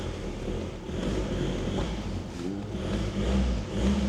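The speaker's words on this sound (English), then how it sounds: "Just revving it, it sounds like it wants to go." A Volkswagen Caddy van with a BKD diesel engine, just repaired for boost problems, revs up and settles in a continuous low rumble, with blustery wind noise over the microphone throughout.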